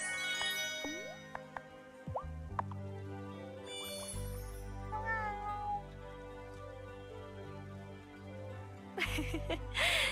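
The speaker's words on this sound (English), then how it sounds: "Oh, such a good cat." A cat meows repeatedly in the video game Wylde Flowers, several short, clear mews spread across the moment, heard alone over soft game music and small chiming effects.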